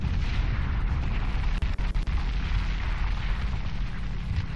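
Heavy, rumbling explosion din from bombs in Conker's Bad Fur Day, a sustained loud low roar with a few sharp cracks near the middle and no talk.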